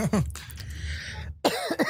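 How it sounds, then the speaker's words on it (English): A few harsh coughs, one early and a rough burst near the end, close by, with some voice in between. "Let me cough in peace."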